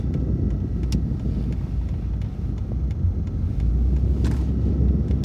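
Steady engine rumble and road noise from a 1992 Mercedes-Benz 190E 2.6 cruising along a country road in the Netherlands, a constant low drone with faint wind buffeting and no talking.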